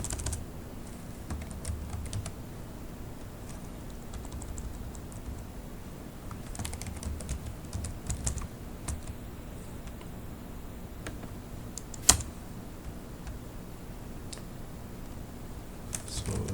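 Soft keystrokes tap on a computer keyboard while commands are entered in a Kali Linux terminal, scattered clicks in short bursts with one sharp louder key strike midway.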